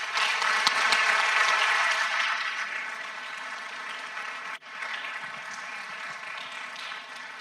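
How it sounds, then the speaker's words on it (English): Applause from an audience at a competition finals awards ceremony, a broad wash of clapping that is fullest at first and gradually thins and fades over several seconds, with no talking over it. "big, big round of applause."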